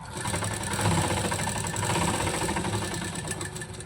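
Sewing machine stitching a baby frock, a loud continuous mechanical whir with rapid needle chatter, running steadily at an even pace without pause.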